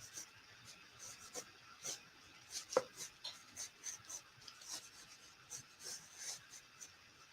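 Pen scratching ink lines onto paper, a faint close series of quick dry scratchy strokes in an irregular rhythm, quiet throughout with no voices.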